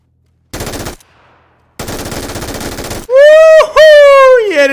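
Full-auto weapon fire in the battle royale game PUBG: two loud, dense bursts of rapid shots, then a strained, high voice yelling loudly over the gameplay.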